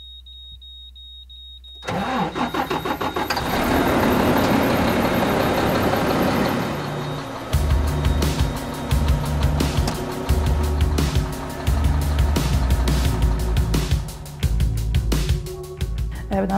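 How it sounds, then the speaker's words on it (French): A collection truck's engine cranks and catches with a loud roar, then settles into a heavy, rumbling idle with rattling mechanical pulses, close and continuous after a quiet opening. "On va checker l'huile avant de starter le truck"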